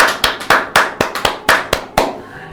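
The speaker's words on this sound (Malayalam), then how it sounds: "ഒരു ക്ലാപ്പ് കൊടുത്ത്." A few people clapping together at a state-level news reading competition, about ten loud, sharp, fairly evenly spaced claps with no talk.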